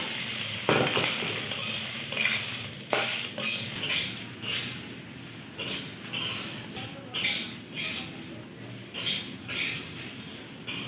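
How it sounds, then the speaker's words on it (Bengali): Rice frying for pulao in a pan over low heat under a steady hiss, with repeated scraping clicks from a spoon stirring it every second or so, close by. "এবার এটা কম আঁচে ভালো করে নাড়তে থাকবে।"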